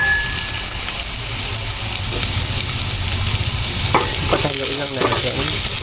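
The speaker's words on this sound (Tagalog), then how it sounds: "Gigisa ko pala muna yung ito, sayote bago ilagay yung uli ko." Chayote sautéing in a pan with golden-browned garlic and onion sizzles loudly and steadily, with stirring scrapes and clatters of the utensil toward the end.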